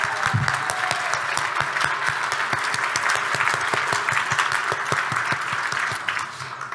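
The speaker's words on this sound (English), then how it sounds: "And now you can applaud." Sustained audience applause at a charity fundraiser breakfast, dense steady clapping from a sizable crowd throughout, tapering off near the end.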